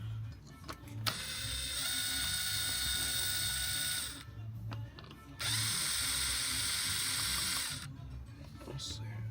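Ratchet wrench backing screws out of a Mitsubishi 3000GT SOHC engine bay during a turbo install, two long bursts of rapid clicking ratcheting separated by a short pause, close and fairly loud.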